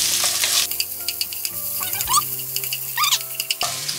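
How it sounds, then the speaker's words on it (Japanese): Onions stir-fried in a pan until soft, a close sizzle broken by repeated scraping and clattering strokes of stirring, with bursts of sharper squeaky scraping. "玉ねぎ入れて炒めますね。 しんなりするまで炒めていくよ。"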